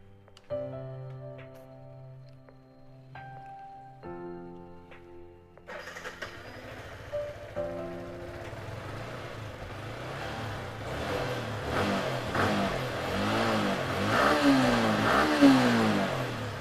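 Electronic beeps and a whirring starter give way to a 2019 Yamaha R15 sport motorcycle engine catching, idling smoothly, then revving repeatedly, the pitch climbing and falling up close.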